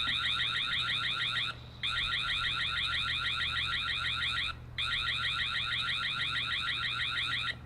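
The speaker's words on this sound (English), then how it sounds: "Next up, it's an alarm test." An outdoor security camera, the C120, runs a test of its built-in siren. A rapid warbling electronic alarm blares in long bursts, cut twice by brief pauses, and nobody speaks.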